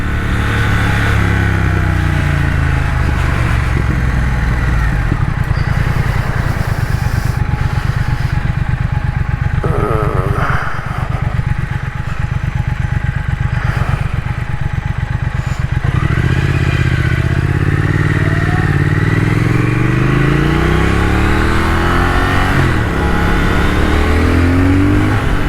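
A 2021 Triumph Thruxton RS motorcycle under way on the road, its engine loud and steady with rising pitch sweeps as it accelerates through the gears, plus wind rush and some clatter.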